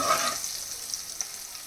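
Turmeric frying in oil in a pan for a tapioca side dish, a soft steady sizzle with a brief stir near the start and a couple of faint clicks.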